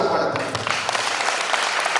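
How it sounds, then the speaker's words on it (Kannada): Audience applause at a public health-awareness event in Hosapete, steady broadband clapping filling the whole stretch at moderate level, with no distinct voices over it. "ನಿಜವಾಗ್ಲೂ ನಾವು ಆರೋಗ್ಯ ಇಲಾಖೆಗೆ ಜೋರಾಗಿ ಚಪ್ಪಾಳೆ."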